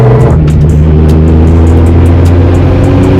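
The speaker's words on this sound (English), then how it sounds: "Race car noise. So loud this one." Nissan Skyline R34 sedan engine, loud and close, a steady deep rumble holding at idle or light throttle with no speech over it.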